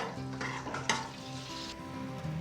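Lump palm sugar simmering and being stirred in a pan for a fried squid fish-sauce glaze, a steady bubbling sizzle with scraping spoon strokes and one sharp clink, close and continuous.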